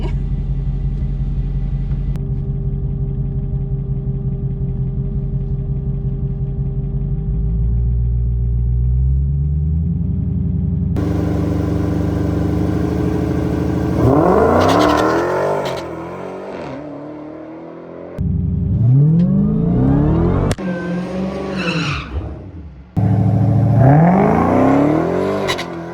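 A drag race car engine at a racing school idles with a low rumble, then erupts into loud, repeated revving bursts that sweep up and down, each blip close and aggressive, with brief pauses between.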